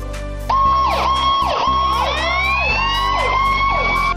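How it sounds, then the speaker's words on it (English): A fire engine siren blares close and loud, a steady high tone overlaid by repeated swooping wails that rise and fall about once a second, with no talk. "Fire engine."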